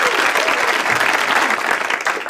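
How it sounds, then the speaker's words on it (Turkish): Audience applause at a Turkish comedy show, dense steady clapping filling the room for a couple of seconds and fading slightly at the end. "İyi alkışlayalım ikisine."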